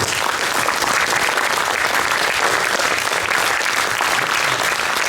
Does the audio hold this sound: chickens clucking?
no